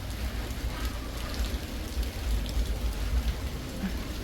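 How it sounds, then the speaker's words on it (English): Light rain pattering steadily during an afternoon with no thunder, a dense even hiss of drops on surfaces, continuous and fairly soft, with no voices. "Little rain, no thunder,"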